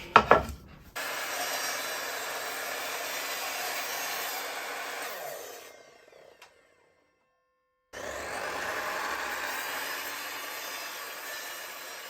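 A hand saw cuts kerf notches into a wooden board for bending, a steady rasping stroke that runs for about five seconds and tapers off, then a pause of silence before the sawing resumes.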